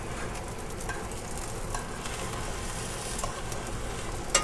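A T-bone steak sizzles steadily in a hot pan, a continuous close crackling hiss with no pauses and one brief pop near the end.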